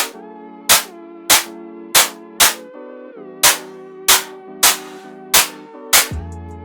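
A drum hit run through the C-Rev hybrid reverb, repeating about every half second, each sharp bright crack trailing off into a short ringing metallic tail over a sustained tonal bed, loud and close.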